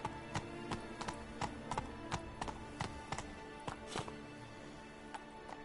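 Hoofbeats of Roach, Geralt's horse, in Witcher 3: Blood & Wine, heard as a steady, evenly spaced clip-clop of hooves at a trot, fairly close and quiet, with no talk over it.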